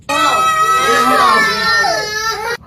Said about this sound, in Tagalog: Nag-iiyakan, hindi po sinama sa palengke.